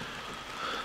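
Steady rain falling outdoors at a garden, a soft continuous wash of drops on surfaces with no voices over it.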